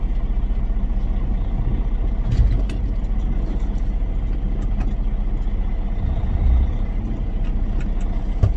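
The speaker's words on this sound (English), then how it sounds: "We're backing under the trailer right now." A truck engine idles and rumbles nearby while backing under a trailer, with a low steady drone and a couple of brief louder thumps and rises.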